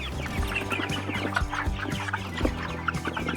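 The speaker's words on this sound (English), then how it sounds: "There you go, happy chickens!" A flock of broiler chickens clucking and murmuring nearby, overlapping soft calls in a busy, continuous chorus.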